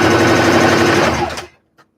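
A sewing machine stitches the back panel of a vest in a steady, loud run that stops abruptly, followed by a brief faint tap.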